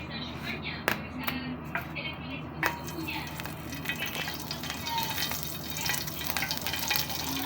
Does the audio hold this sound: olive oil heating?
yes